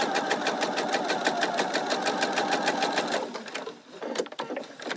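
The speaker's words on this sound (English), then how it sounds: "And now I'm stitching a 1/4 inch away from that diagonal." A sewing machine chain stitches half square triangle quilt pieces a quarter inch from the diagonal, running in a fast, even rhythmic whir for about three seconds before stopping and giving way to faint handling noises.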